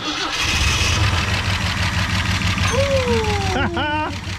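A 1968 Ford F100 Ranger, abandoned for years and revived, cranks with a steady rhythmic starter churn and then catches. Its loud, rough engine runs close by, while voices can be heard in the background.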